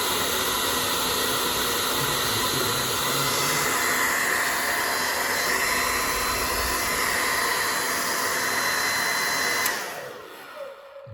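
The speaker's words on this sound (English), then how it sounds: "we're going to turn on the hairdryer" A hairdryer blows a steady, loud rush of air over a diecast Formula 1 car on a scale, running continuously before cutting off abruptly near the end and leaving near silence.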